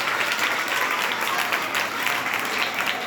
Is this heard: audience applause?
yes